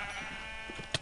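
A Minecraft sheep gives a single short bleat over a steady game-ambience hum, followed by a brief sharp click near the end.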